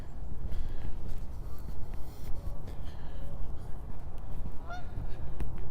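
Water birds on a partly snowy lake in Regina give scattered honks and goose-like calls over a steady outdoor rumble, moderately distant, with no voices.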